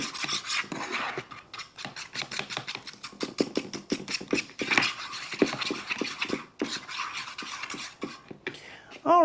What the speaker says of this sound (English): I'm just going to whisk that around